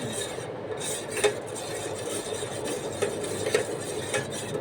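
Coffee being beaten in a cup until frothy, with a spoon stirring and scraping steadily against the sides as a soft, continuous rasp and a few light clinks, heard alone and close.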